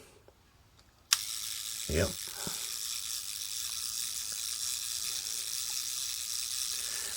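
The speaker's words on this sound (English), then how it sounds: "this I'm assuming is a self timer" A Lubitel 2 Soviet TLR camera's self-timer starts with a sharp click, then a continuous mechanical buzzing whir runs steadily and close, with a brief spoken word early on.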